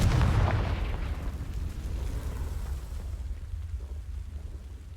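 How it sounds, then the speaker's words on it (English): In the Hogwarts Legacy video game, a Confringo fire spell bursts against dry vines with a loud whooshing boom at the start, then a crackling roar that slowly fades over a few seconds. "These dry vines are one spark away from becoming kindling. Confringo!"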